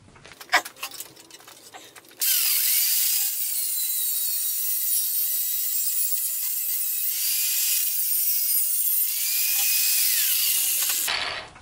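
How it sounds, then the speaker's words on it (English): An angle grinder cuts a piece of metal stock for a clamp build, a loud high-pitched whine that starts after a few light handling knocks and holds steady for about nine seconds before cutting off. "I'm going to take the angle grinder and cut off a piece of material."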